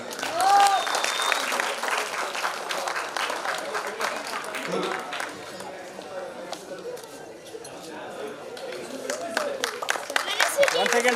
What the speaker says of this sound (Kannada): ಜೋರಾಗಿ ಒಂದು ಚಪ್ಪಾಳೆ